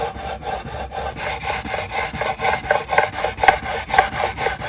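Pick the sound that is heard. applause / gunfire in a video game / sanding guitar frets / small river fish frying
sanding guitar frets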